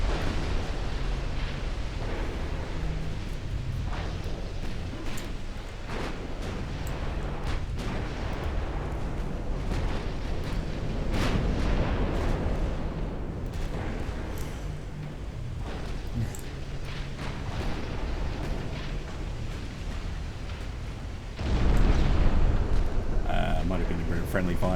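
Artillery fire and explosions in the strategy video game Dawn of War, a continuous dense rumble of booms and blasts with a louder burst near the end, while someone talks over the battle.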